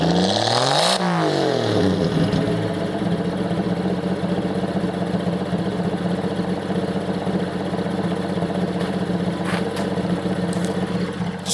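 A 1978 AMC Pacer's 4.2-litre straight-six, automatic, revs up in a quick swell near the start, then settles into a steady, loud, rumbling idle up close that holds for the rest of the clip.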